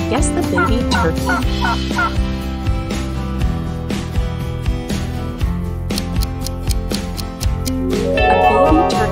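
A turkey gobbles in a quiz about baby animals, its rapid warbling calls loud and close over a steady, busy musical backing that runs throughout.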